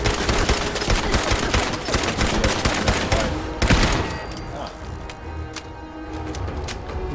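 Rapid automatic fire from a turret in Fallout 4, dense bursts of sharp gunshots rattling for several seconds before easing into scattered shots and lingering echoes.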